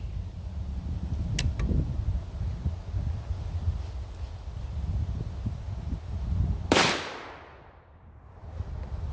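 A very fast handloaded 454 Casull round fires once in a single sharp, loud crack with a quick decaying tail, after a quieter stretch of outdoor background noise.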